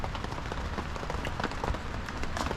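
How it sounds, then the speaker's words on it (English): Steady dense pattering of rain on a tent, a constant soft wash of drops with no voices. "Rain sounds gorgeous."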